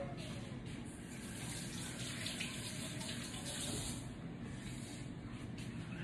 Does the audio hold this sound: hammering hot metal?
no